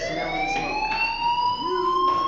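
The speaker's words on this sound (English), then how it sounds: "Hey, do you hear that fire alarm?" A fire alarm in the video game Life Is Strange sounds as a loud electronic wail with a rising pitch and a few short pulses, heard up close with nothing else over it.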